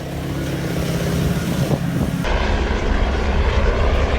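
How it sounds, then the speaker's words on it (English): A MAN rally truck is stuck in sand dunes, its engine roaring loud and close as all four wheels spin. Partway through the roar turns deeper and heavier. "She's in a MAN truck, but she is well and truly stuck, all 4 wheels spinning and going nowhere."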